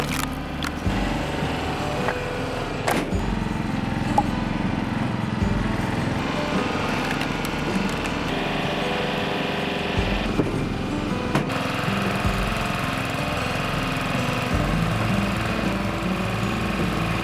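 A log splitter's small engine runs steadily and loudly while it splits firewood logs from cleared trees on a small farm, with occasional knocks and clunks over the constant drone.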